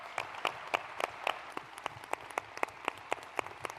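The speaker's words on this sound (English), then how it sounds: "let's give a round of applause to all of our partners for engaging in this important work" Sparse applause at a county address comes as a thin run of separate, evenly spaced claps, fairly faint and heard without talk.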